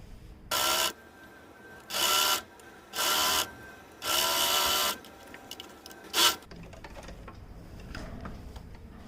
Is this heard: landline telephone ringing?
no